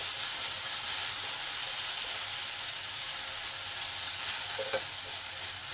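Jute leaves stir-fried in a pan until crisp, giving a steady, close sizzle and hiss throughout with a faint scrape of stirring near the end.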